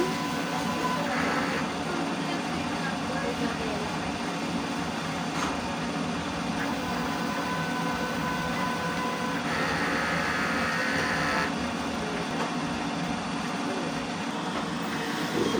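A printer runs a head cleaning cycle, producing a steady, close mechanical whirring drone with faint higher whines that rise and fall throughout.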